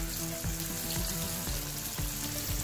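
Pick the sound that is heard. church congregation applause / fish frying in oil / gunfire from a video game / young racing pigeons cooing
fish frying in oil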